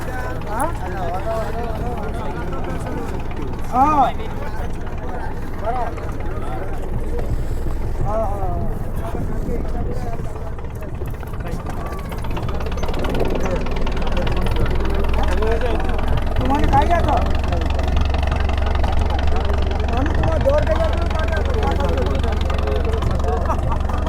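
Boat engine of a crowded Sundarban ferry leaving the ghat, a low steady idling drone that grows louder and heavier midway, running continuously under frequent nearby talk and crowd voices.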